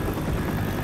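An arriving helicopter in the video game Left 4 Dead 2 throbs as a steady, loud rotor rumble that fills the moment without any talk.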